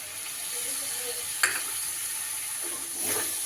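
A spoon scrapes and stirs tomatoes in a frying pan for a broccoli dish over a soft, steady sizzle, with one clear clink of utensil against the pan.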